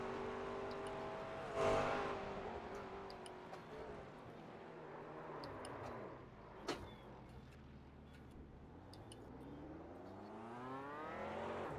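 Race car driven hard during a race, its engine note climbing and dropping through gear changes in smooth rising sweeps, loud and steady, with a few brief clicks and knocks inside the cockpit.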